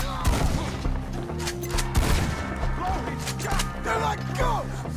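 Shootout in Red Dead Redemption 2, a cluster of loud gunshots and volleys layered over a steady musical score, with voices shouting over the fire.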